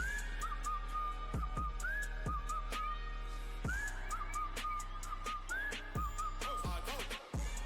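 Someone whistles a melodic tune, sliding and wavering, over a busy background of music with steady beats and bass during an esports co-stream.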